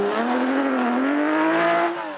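A Porsche rally car at full stretch on a classic rally stage, its engine holding a loud, steady, high-revving drone that climbs slightly before easing off at the end.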